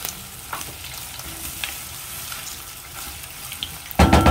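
Matumbo (tripe) cooking in a pot with beef cube seasoning, stirred with a spoon: continuous sizzling bubbling under scraping strokes, ending in a louder clatter near the close.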